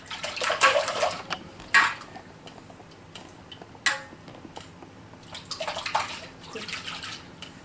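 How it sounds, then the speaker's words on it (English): Paintbrush swished and rinsed in water, several close splashing bursts separated by quieter gaps, with faint clinks against the container and no talk. "Rinse off the brush nice and gently"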